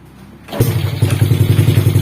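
A Honda Wave 100 motorcycle with hard-starting and unstable-idle trouble fires up without throttle: a quiet moment, a sudden thump as it catches, then a close, rapid, pulsing idle.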